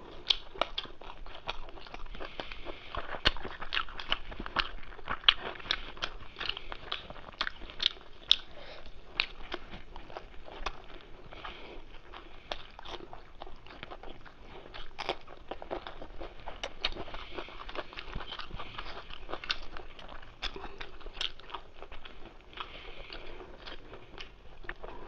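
Someone eating chicken biryani by hand, close wet chewing and biting with small crunchy clicks repeating steadily throughout, no talk.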